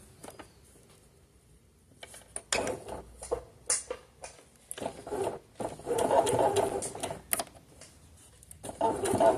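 Short, halting bursts of mechanical whirring and ticking from a domestic sewing machine run slowly over knit fabric, separated by brief pauses, close and fairly quiet.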